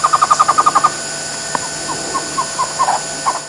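A Cuban trogon (tocororo) calls in a Cuban mountain forest: a rapid series of about nine even hoots, then scattered softer notes against a faint background hiss.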